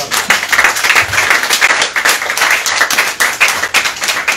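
Church congregation clapping loudly and steadily in a dense, continuous round of applause, close and sustained for several seconds.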